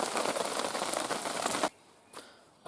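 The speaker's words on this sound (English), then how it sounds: "the roof's up because we're having hail" Sudden hail drums hard and dense on a roof in unexpected stormy weather, a loud continuous patter that cuts off abruptly, followed by one short burst of impacts amid near-quiet.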